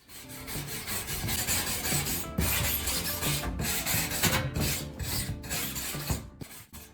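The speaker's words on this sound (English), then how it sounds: "use a wire brush to clean the surface. Remove loose rust and debris." A wire brush scrubs loose rust off an old metal roof sheet, with rapid, harsh back-and-forth rasping strokes, close and fairly loud, ending in a few quick short scrapes.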